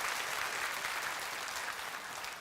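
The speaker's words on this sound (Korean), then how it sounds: "박수로 하나님 앞에 영광을 드려드리겠습니다." A church congregation at Sunday worship applauding, a dense even wash of many hands clapping throughout, moderately loud, no voices over it.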